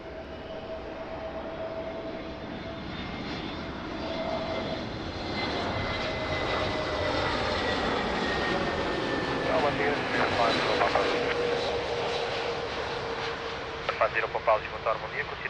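Jet aircraft engines roar steadily at Lisbon Airport, a broad sustained rumble that swells louder midway as a plane passes, with rising and falling whine tones over the top.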